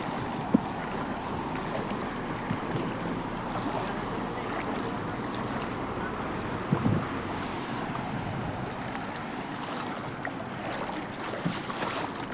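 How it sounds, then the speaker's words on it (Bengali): Steady broadband wash of heavy rain and moving flood water fills a flooded Dubai street, continuous and fairly loud throughout, with occasional small knocks and no talking. "অনেক পানি, অনেক বৃষ্টি, বন্যা হয়ে গেছে"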